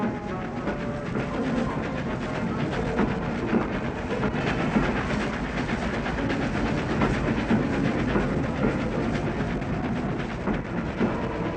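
A steam express train rumbles steadily along the rails, slowly rounding a curve, with a continuous dense roar and faint rhythmic clatter throughout, no voices.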